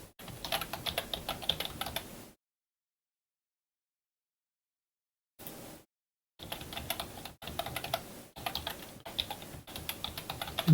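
Typing on a computer keyboard while entering a password during a Bodhi Linux install: steady clicking keystrokes in bursts, a short burst, then a long silent gap before rapid typing resumes, close and clear with no voices.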